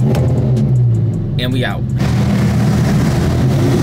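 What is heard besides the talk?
supercar engine starting and revving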